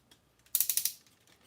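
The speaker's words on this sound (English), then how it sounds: "you will need to do that if you want to get his full range of motion on his ratcheted legs" The ratcheted leg joints of a Fans Toys Transformers figure click through a quick run of five or six sharp plastic ratchet clicks, close and distinct against a quiet background.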